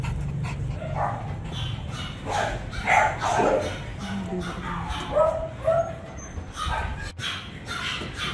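Standard American Bully dogs vocalizing together, a mix of yips, whimpers and drawn-out howl-like cries over steady background noise, with people talking throughout.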